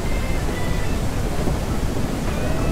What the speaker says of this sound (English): Oh god, I can't speak above that thunder.